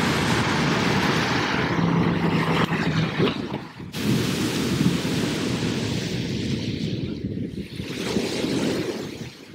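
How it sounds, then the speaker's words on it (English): Deep, rolling thunder rumbles continuously outdoors in Miami, loud and broad, with a sharp crack partway through and a steady wash of wind or rain beneath. "That thunder sounds for real."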